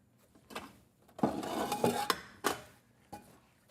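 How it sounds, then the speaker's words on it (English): Batter being whisked in a bowl in a busy home kitchen: scattered clinks and scrapes of a whisk against the bowl, louder in a rush of quick strokes then tapering into separate taps, with no talking. "It's important to whisk that and whisk it often."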